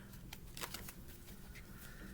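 Soft, faint shuffling of a tarot deck, a steady low rustle of cards sliding against each other with a few sharper flicks, close by and without any talking.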